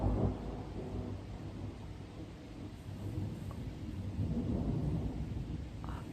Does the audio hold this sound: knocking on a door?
no